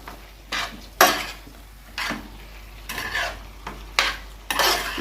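A spoon stirs meat and vegetables with cardamom and nutmeg in a pot, giving a series of close scraping strokes at irregular intervals over a soft sizzle, with no talking.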